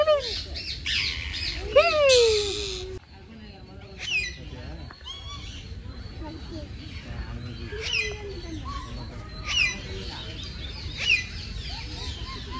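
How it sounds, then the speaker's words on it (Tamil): A parrot squawking in an enclosure at a children's park, several loud, harsh rising calls spread across the span, close by, with people talking and outdoor background noise in between. "ஒரு கிளி இருக்கு உள்ள தெரியுதுங்களா"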